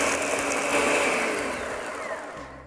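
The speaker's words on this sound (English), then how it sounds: "we're just gonna pulse the blender a few times and get everything nice and smooth" A blender crushes about 14 ounces of ice for a frozen margarita in one steady, loud grinding run that eases off slightly toward the end, with no voices.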